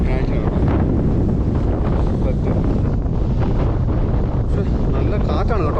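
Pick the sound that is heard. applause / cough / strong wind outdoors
strong wind outdoors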